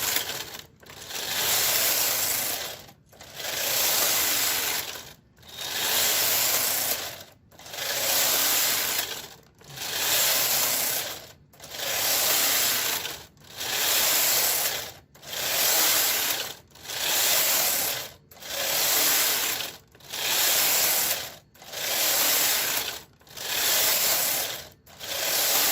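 A knitting machine carriage sweeps back and forth across rows of a slipper piece, each pass a loud, near, rhythmic mechanical whir with clicking, separated by short pauses, about a dozen even strokes.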